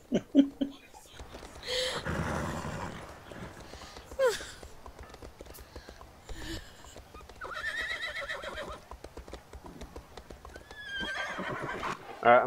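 A horse whinnies at a stable in a video game, with neighs and clip-clop hooves at moderate level amid game sounds and soft laughter from players.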